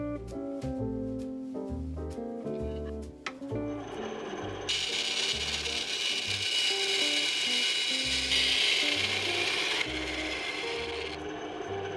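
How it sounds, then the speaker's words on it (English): A bandsaw slicing a model car in two for an Iron Man 2 diorama: after a short run of rhythmic workshop knocks, a loud steady rasping whine of the blade through the plastic body holds for several seconds, then stops. "run this car through the bandsaw"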